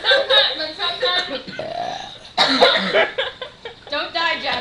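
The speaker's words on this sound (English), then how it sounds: "Sometimes the gas makes me sick though until I burp." Teenage girl belching in a contest: several drawn-out, voiced burps come in bursts, with giggling and chatter from other girls around them.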